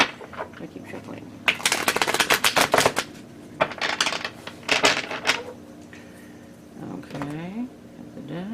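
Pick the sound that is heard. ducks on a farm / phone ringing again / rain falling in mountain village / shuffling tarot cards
shuffling tarot cards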